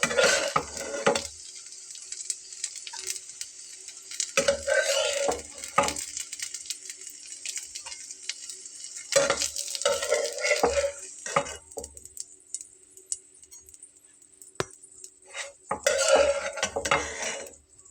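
Bread and egg sandwiches fry in a shallow pan, with intermittent bursts of sizzling and clinks of a spatula or utensils against the pan, separated by quieter gaps.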